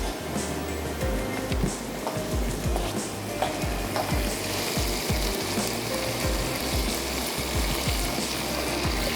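Butter sizzling in a pan while caramel kheer is made, a steady close-up frying hiss with scattered crackles and light pops throughout.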